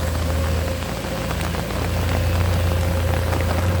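Steady rain falls on a worksite while heavy excavators, a Sany SY200C and a Komatsu PC210-10MO, idle and work nearby, their low engine drone running continuously beneath the hiss of rain with no talk.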